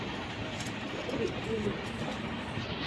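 Pigeons coo softly in low, repeated murmurs against a steady background hum, a few birds close by with no clear voices over them.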